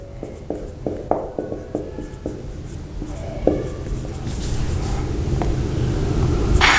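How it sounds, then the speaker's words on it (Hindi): Pen or chalk strokes while a physics question about point charges is written out by hand during a lecture, a series of short scratchy taps and strokes early on, giving way to steadier rubbing and faint background noise. "देखो बेटा क्वेश्चन लिख लेता हूं।"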